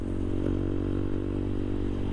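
A TVS Apache RTR motorcycle fitted with a modified exhaust runs with a loud, steady, low rumbling drone, close by and without talk.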